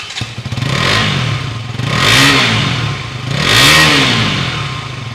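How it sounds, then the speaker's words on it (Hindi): KTM 200 Duke motorcycle engine revving through its exhaust in three loud, rising-and-falling bursts, each swelling then dropping back to a steady idle, close by with no talking. "अभी सुनते हैं KTM 200 की एग्जॉस्ट नोट।"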